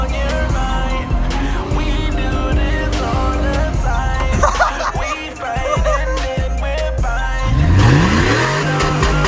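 A 2000 Chevrolet Silverado pickup with a muffler delete and a worn 4L60E transmission idles loud and close, blips its throttle, then revs up in a rising roar near the end.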